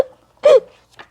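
A voice imitates a single loud hiccup while reading a children's story about a skeleton who cannot stop hiccuping, followed by a fainter second hiccup-like catch.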